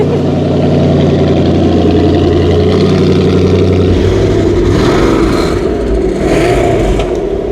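A car engine runs steadily at idle in a trailer after a car that has covered just under 16,000 miles is driven in, loud and close with a brief rise in revs partway through and no talk.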